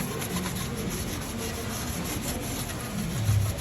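Steady abrasive scrubbing of welded sheet metal on a 1960s Holden Premier body with a Scotch-Brite pad to kill surface rust, a continuous close rubbing hiss with no pauses.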